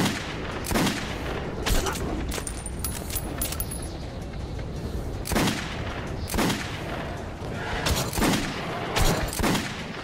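Repeated gunshots and bursts of weapon fire in the first-person shooter Metro Redux, a dense, loud barrage with sharp cracks recurring every second or two over constant rumbling background noise.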